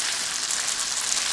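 Garlic sautéing in a pan for spaghetti with tomatoes gives a steady, close, even sizzle of hot oil with no pauses and no voices.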